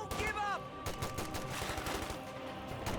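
Machine gun fire in a Company of Heroes 2 battle rattles in rapid, dense bursts throughout, with a brief whistling tone near the start.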